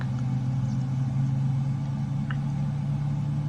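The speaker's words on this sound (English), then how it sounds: "That'll probably just be because the engine's starting." Engine start-up of a Boeing 777-300ER with GE90 engines in a flight simulator, heard as a steady low hum and drone that stays constant with no speech.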